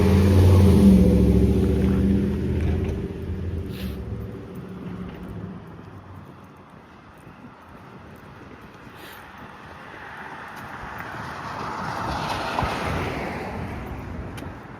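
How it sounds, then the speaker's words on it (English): A truck rumbles loudly past on a residential street in Leaside, East York, Toronto, its low engine noise fading away over several seconds while wind buffets the microphone. "I'll wait for this truck to go."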